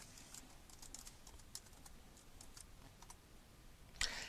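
Soft, quick keystrokes as an SSH passphrase is typed at a computer keyboard, faint and close, ending with a sharper, louder key press like Enter.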